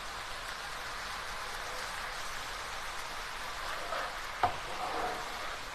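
Translucent onion and fresh tomato sizzle steadily in a pan, a continuous hiss of frying with a brief scrape of stirring near the end; no talking.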